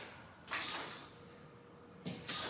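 A Pongbot Nova S Pro table tennis robot feeding with no balls left gives two short mechanical whooshing bursts, about one and a half seconds apart, against a steady faint hum, with no impacts following.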